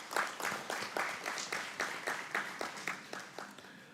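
An audience at a memorial lecture claps in a quiet, fairly even patter of hand claps that lasts a few seconds.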